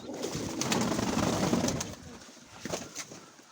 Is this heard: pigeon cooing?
yes